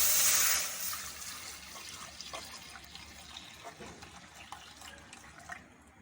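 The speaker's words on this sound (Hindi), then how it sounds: "इसलिए सबसे पहले कढ़ाई में दूध डाल लेंगे।" Milk poured into a kadai for a watermelon milkshake, a loud liquid gush at the start that eases into a steady, softer pouring and splashing trickle.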